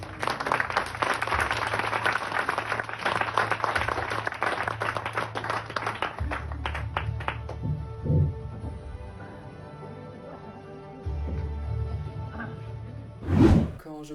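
An audience at a hypnosis show applauds a volunteer, a dense burst of clapping that fades after several seconds into quieter scattered sounds, ending with a brief louder swell.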